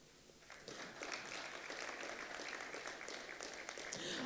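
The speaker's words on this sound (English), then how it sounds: "A round of applause, please, for her as she makes her way to the podium." Audience applause for a minister as she walks to the podium at a global summit, a steady wash of many hands clapping that swells after a quiet start and continues evenly, fairly faint and distant.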